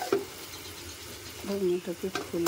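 Vegetables stir-fried in a pan, stirred and scraped in a few short bursts over a low background sizzle, with a voice speaking softly near the end.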